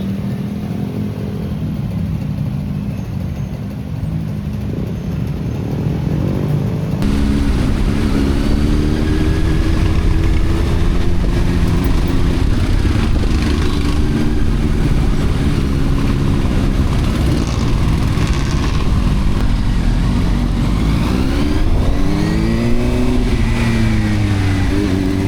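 A CFMOTO 750SR motorcycle engine drones loud and steady through a test ride in traffic, with rising and falling rev sweeps near the end.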